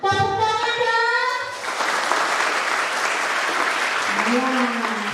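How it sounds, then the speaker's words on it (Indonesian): Audience at an Easter youth camping event in Wondama claps on request, a steady burst of applause rising after a speaker's voice and continuing to the end, with talking heard over the closing moments. "Boleh meminta hadirin untuk bertepuk tangan. Tepuk tangan dong."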